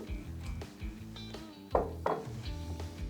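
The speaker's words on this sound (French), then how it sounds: "Je vais mélanger la levure." Yeast being mixed into liquid ingredients for a brioche des rois dough in a bowl, with repeated clinks and knocks of a utensil against the bowl in an uneven rhythm, close by.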